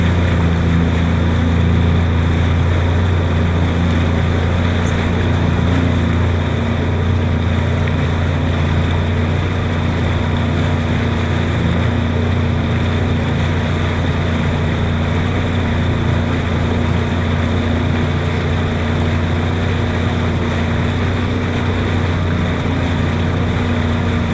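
A jet ski engine idles slowly across the water at low tide near a coastline, a steady low droning hum that holds at an even level for the whole stretch, with soft wind and water noise beneath it and no talking.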